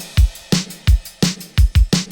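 A produced pop drum pattern in a chorus: punchy kick and snare hits in a steady, loud rhythm, with bright crash cymbal washes ringing over the strong beats.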